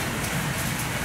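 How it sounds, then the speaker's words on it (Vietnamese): Steady rain pours at an outdoor fishing pond in Vietnam, a dense, loud, even hiss of drops with no voices. "Trời mưa."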